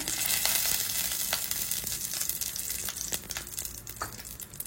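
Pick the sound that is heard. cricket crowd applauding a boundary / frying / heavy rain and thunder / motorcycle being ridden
frying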